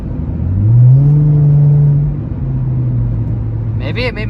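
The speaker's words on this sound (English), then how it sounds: "It sounds like my exhaust note got lower" A Chrysler 300 fitted with a K&N intake revs up, its deep exhaust note swelling then easing into a lower steady drone, with a brief voice at the end.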